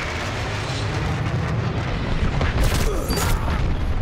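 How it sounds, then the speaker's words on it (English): An airstrike in the game Dirty Bomb, a continuous heavy rumbling roar of blasts and aircraft noise, loud and close, swelling slightly in the latter half. "Airstrike incoming."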